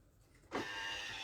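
A kitchen robot heating almond purée for two minutes at 37 degrees, starting with a sudden steady whirring hum after a quiet moment and holding at an even level.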